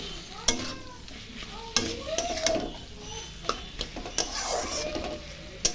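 Cabbage curry with garam masala stirred in a pan, a spoon scraping and clinking against the metal in irregular strokes over a low sizzle, close and moderately loud, no talking.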